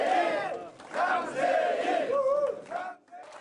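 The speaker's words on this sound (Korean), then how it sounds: "선거 사무실에서는 개표 시작 2시간여 만에 환호성이" Supporters erupt in cheers at a county governor-elect's campaign office on election night, a crowd of voices shouting and whooping in swelling bursts that fade toward the end.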